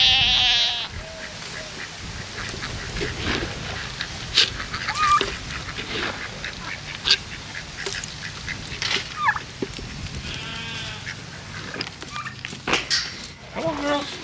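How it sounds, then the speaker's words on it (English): Sheep and goats grazing overgrown grass give a few scattered bleats, near and far, over soft background animal noise, while a person talks through much of it. "You can see the sheep and goats."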